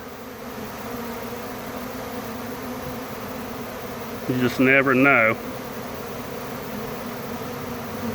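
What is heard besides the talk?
honey bee swarm buzzing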